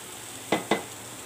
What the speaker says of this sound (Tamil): நல்லா ஹை ஃப்ளேமில் வச்சு எல்லாத்தையும் கிண்டி விட்டுக்கலாம்.